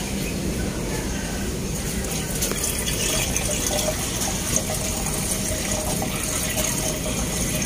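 Water pouring steadily during repair of an overheating Ford Ranger 2.2 Wildtrak truck, a continuous close gushing splash with faint birdsong in the background.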